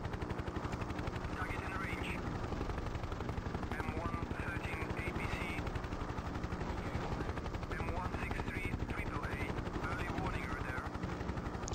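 Mi-24 Hind attack helicopter in the 1996 game Hind, flying in a Korea anti-helicopter mission, a steady loud rotor and engine drone with rapid gunfire rattling over it throughout.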